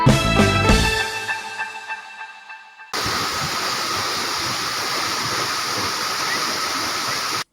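Tad Kaeng Yui waterfall in Vang Vieng, Laos: after a short musical fade, a steady, loud roar of falling water fills the scene without a break, alone and close.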